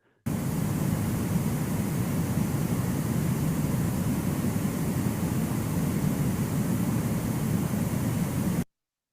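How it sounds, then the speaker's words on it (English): Steady, broadband roar like airplane cabin noise, generated in Audacity, holding constant for several seconds before cutting off abruptly. "It's like what you would hear if you were on an airplane."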